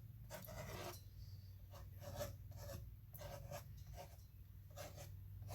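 Scraping strokes of a tool across wet watercolor paint on paper to add texture to tree trunks in an autumn landscape, a series of short, close rasping scrapes in bursts with brief pauses, over a steady low hum.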